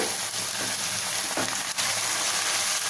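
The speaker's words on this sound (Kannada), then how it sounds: "ಈಗ ಈ ಪಾಲಕ್ ಸೊಪ್ಪನ್ನ 2 ರಿಂದ 3 ನಿಮಿಷ ಚೆನ್ನಾಗಿ ಫ್ರೈ ಮಾಡ್ಕೊಳ್ಳೋಣ." Palak spinach leaves fry in a pan with tomato for dal, a close, even sizzle with light stirring and a couple of soft knocks, moderately quiet and without voices.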